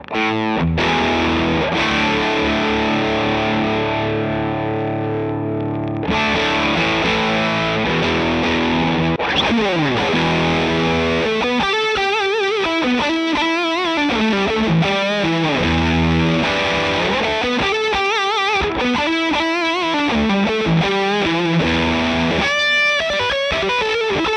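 A heavily distorted guitar through a Fjord Fuzz pedal plays loud sustained chords and choppy riffs, its tone control sweeping the sound from thick and dark to brighter and more cutting.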